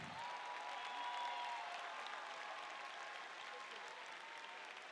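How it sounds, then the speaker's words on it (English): Sustained applause from a standing audience at a high school commencement, honoring the educators; dense, even clapping that holds steady throughout, heard somewhat distant in a large hall. "Let's give them a huge round of applause."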